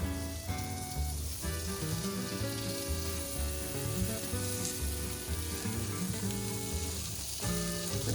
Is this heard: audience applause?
no